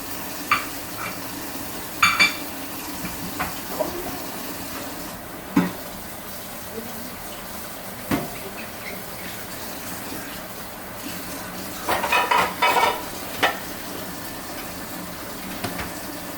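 Thin plantain slices fry in a pan with a soft, steady sizzle, broken by occasional clinks and scrapes of a utensil against the pan, while someone talks now and then.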